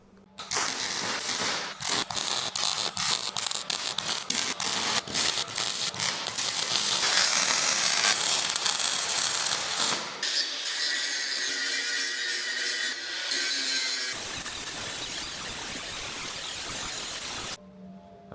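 A thin Pferd CC Grind Robust disc grinds steel on a custom welded fuel tank cradle for a Hummer H2, giving a harsh, loud, continuous rasp that shifts in tone midway and cuts off abruptly near the end.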